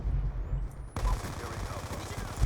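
Rapid gunfire from the video game Black Ops 2 rattles in a dense, continuous burst after a brief quieter lead-in, loud and close.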